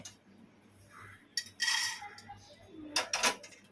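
Fried whole spices, including small cardamom, are taken off a pan, giving a few faint metallic scrapes and clinks of a utensil against the pan in two short clusters amid quiet kitchen room tone.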